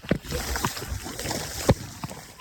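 A foot scrapes and drags over slick gravel as a bike brakes on a mountain bikeway, a short rough scuffing burst with a sharper scrape near the end, close up among breezy outdoor noise.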